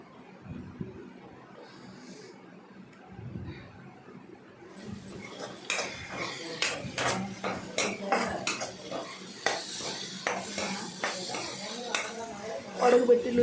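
Maggi noodles fried and stirred in a pan, with a utensil clinking and scraping against the metal in quick, uneven strikes that grow busier halfway through, over faint background talk.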